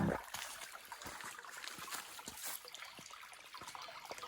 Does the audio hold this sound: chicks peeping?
no